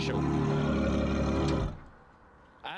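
A Novitec Ferrari 812 N-Largo in loud exhaust mode roars at full volume with a dense, deep drone, then cuts off abruptly into quiet surroundings before a brief burst returns at the end.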